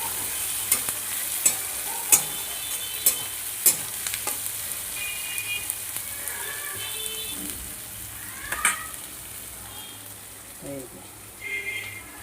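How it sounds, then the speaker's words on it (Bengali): Chopped onion frying in a pan for a fish curry, a steady sizzle broken by sharp scraping stirs at regular intervals, close and fairly loud, with no talking. "পেঁয়াজ কুচিটা দিয়ে দিলাম এর মধ্যে দিয়ে এটা বাদামি কালার করে ভেজে নেবে"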